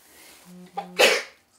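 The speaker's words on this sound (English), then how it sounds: "I'm sneezing." A single sneeze with a short breathy build-up, then a sharp, loud burst, close to the listener.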